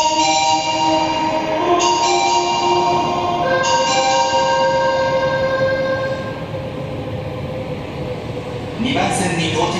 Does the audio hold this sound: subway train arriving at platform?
yes